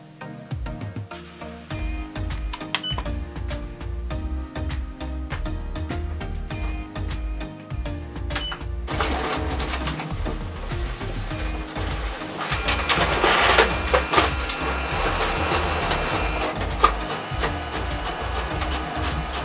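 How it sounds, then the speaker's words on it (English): A Canon inkjet office printer, either a MAXIFY GX7000 or a PIXMA G7000 ink-tank model, runs colour copies with continuous mechanical whirring, clicking and feed clatter that grows louder and busier partway through. "I will start with the color copy speed test."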